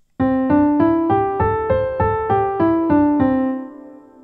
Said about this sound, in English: The first is the major pentatonic scale.